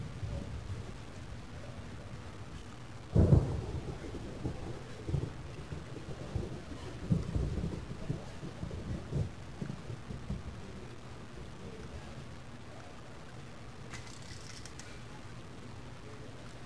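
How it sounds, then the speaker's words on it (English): Rain falls steadily in the game Tex Murphy: The Pandora Directive as a sharp thunderclap cracks early, followed by rolling rumbles that fade into a soft, continuous patter. "Looks like the rain's letting up."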